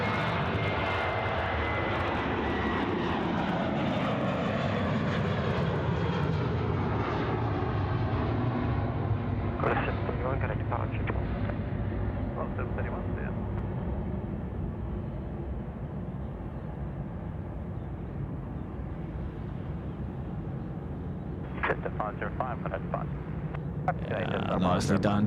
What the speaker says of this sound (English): We've now got Jetstar rolling. This is an A321 that's off to Melbourne this morning.